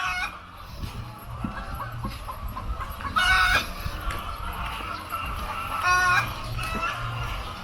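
Chickens clucking on a large chicken farm above a tilapia pond on Bantayan Island in the Philippines, a busy chorus of clucks with a rooster crowing twice, close and continuous.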